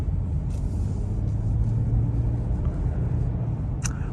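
A 1998 Oldsmobile with 28,000 miles drives along a city road, giving a steady low road and engine rumble from inside the cabin, with a brief higher hiss near the end and no talking.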